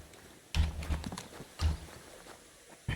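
Horse hooves clip-clopping in the medieval role-playing game Kingdom Come: Deliverance, two short bursts of close, loud hoofbeats separated by quiet, with a brief third knock at the end.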